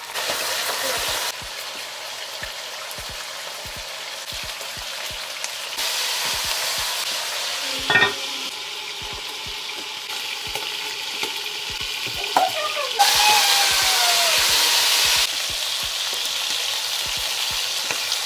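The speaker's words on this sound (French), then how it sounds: "le but c'est de faire griller un petit peu chaque face sans que ça brûle" Food fries in a pan over high heat, a dense crackling sizzle broken by regular ticking from stirring or turning pieces, with a louder burst near the end and no talking.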